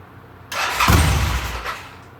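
A motorcycle engine cranks and fires up on a test ride, catching with a sudden loud burst and a quick rev before settling toward a rough idle, close by.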